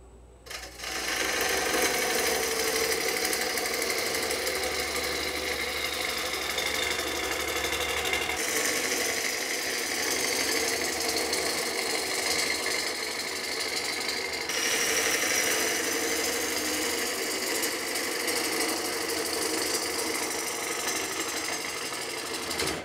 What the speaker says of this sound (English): I'm gonna shave off a bunch of this, and then I'm going to chisel off this point and then reset it.